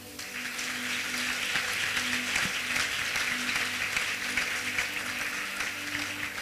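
A crowd applauds steadily, a dense wash of clapping hands that holds at an even level throughout, with a faint hum underneath.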